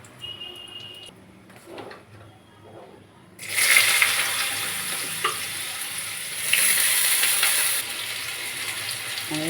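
Potatoes dropped into hot oil with black cumin and dried chili set off a loud, steady sizzle that jumps in suddenly after a quiet start and keeps crackling close by, swelling once more midway.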